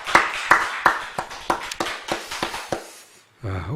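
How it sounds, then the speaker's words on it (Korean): A Korean church congregation claps during a Sunday afternoon worship service: about a dozen distinct, sharp hand claps come in an uneven rhythm and slowly trail off, followed by a brief tonal sound at the very end. "우리 하나님께 영광의 박수 올려드리겠습니다."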